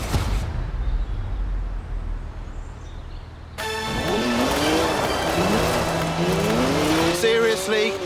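A BMW 1M with a 3-litre twin-turbo straight six of 335 horsepower, driven in Forza Horizon 4. After a few quiet seconds it bursts in loud and close, its engine note sweeping up and down through revs as the tyres squeal.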